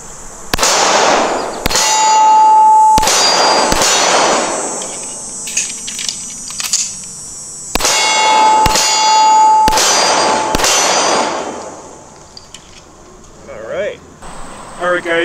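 Rock Island Armory TAC Ultra .45 ACP pistol fired at an outdoor range: two bursts of three loud, sharp shots each, with metallic ringing between them and a pause for a quick reload.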